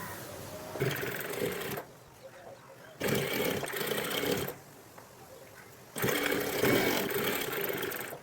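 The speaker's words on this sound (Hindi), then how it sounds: "इस पट्टी के ऊपर किनार की सिलाई लगाना है।" An electric sewing machine stitches the edge of a fabric strip for an Afghani salwar in three loud, close bursts of rapid whirring, with quiet pauses between them.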